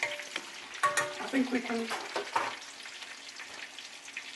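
Chicken pieces with garlic cloves sizzle and frying in a pan while being stirred, with clattering spoon scrapes up front that settle into a softer steady crackle, with brief talk over the start.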